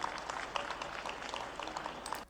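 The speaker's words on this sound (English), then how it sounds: "slow applause there from the crowd" A crowd claps slowly at a news event, a scattered applause of distinct hand claps at moderate distance, fairly faint, with no voices over it.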